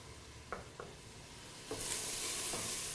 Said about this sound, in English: I like to saute my, my herbs along with the veggies.